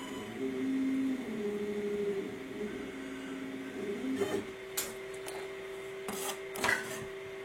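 An Ortur Aufero 2 laser engraver working on 3 mm MDF, with a steady motor whine and buzzing tones, then faint clicks and short scraping sounds as it stops.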